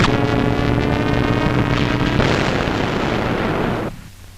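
Heavy, continuous booming roar of anti-aircraft guns firing in a 1944 wartime newsreel, crewed by Home Guard, ATS women and Americans; dense and loud before cutting off abruptly near the end.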